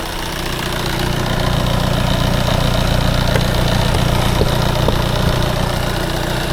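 Diesel engine of an Audi A3 idling steadily and evenly after an injector repair. The rumble is loud and close and runs the whole time with a rhythmic low throb and no voices.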